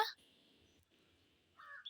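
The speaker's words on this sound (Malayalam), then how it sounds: "കാക്കയാ." A single crow caws faintly in the distance, a drawn-out call between brief voice sounds.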